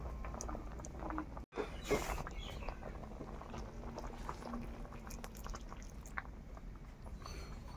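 A pot of rice boils on a wood-fire stove, giving a quiet, steady bubbling and faint popping, broken by a brief clatter, with soft sounds nearby.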